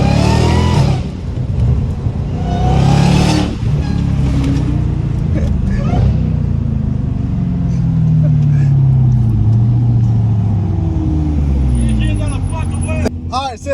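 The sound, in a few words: car engine revving and accelerating on a highway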